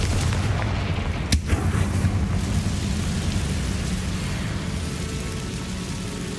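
Confringo fire spell in Hogwarts Legacy, a single sharp blast followed by a deep rumbling roar that slowly fades, loud and close with no voices.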